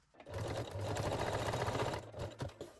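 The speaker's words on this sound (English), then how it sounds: "Now you can sew the straps in a place with a straight or zigzag stitch." A sewing machine runs a straight stitch across lace bralette straps, a steady close mechanical whir with a few brief pauses and restarts near the end.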